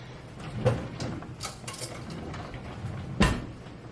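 A spoon is picked out from a batch of metal cutlery in a home kitchen, with two quick, bright clinks spaced a few seconds apart over faint, quiet background shuffling.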